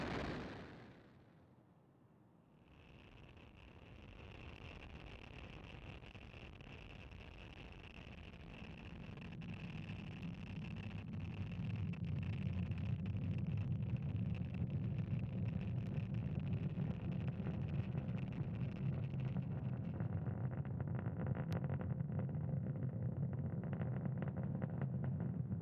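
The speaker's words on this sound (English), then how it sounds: "and liftoff of Starlink. Go Falcon, go Starlink." SpaceX Falcon rocket lifting off to carry Starlink satellites, a deep roaring rumble that swells from a quiet start into a steady, loud, crackling thunder heard from a distance.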